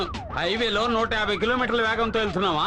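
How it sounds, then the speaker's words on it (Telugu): A car siren wails in a rising and falling pattern throughout, loud and close, with a voice talking over it. "సైరన్ సౌండ్ అండి."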